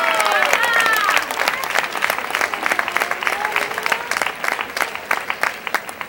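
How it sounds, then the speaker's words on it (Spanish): A crowd applauds a young festival dama named Arantxa at a presentation of damas and reinas, voices briefly overlapping the start before dense, lively clapping continues and slowly thins toward the end. "Un fuerte aplauso para Arantxa."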